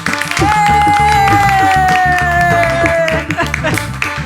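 A group of people clapping hands together, a rapid steady patter of claps with a sustained tonal sound running over it.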